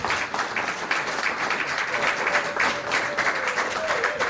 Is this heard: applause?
yes